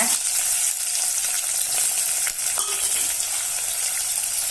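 Garlic sautéing in hot oil after mustard seeds have popped, for bitter gourd kara kuzhambu: a loud, dense, continuous crackling sizzle heard up close, with faint stirring ticks.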